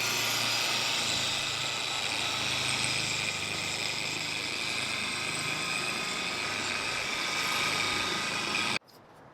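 A power buffer on its slowest setting spreads glaze over a car's paint, producing a steady, loud whirring drone that holds for about nine seconds, then cuts off abruptly.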